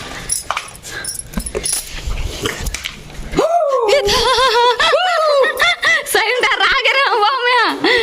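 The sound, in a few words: dog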